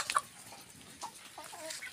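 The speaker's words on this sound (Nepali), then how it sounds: "अब कुखुरा कुदेको हेर्नुहोस् है त" Village chickens cluck in short, faint bursts as they run about a rural yard, a few soft calls spread over a couple of seconds against quiet background noise.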